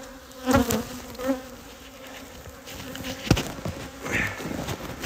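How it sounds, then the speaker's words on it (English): Bees buzz steadily around the hive, with a few louder passes close by and a soft hum of many insects in the background. "Lots of bees out here moving around."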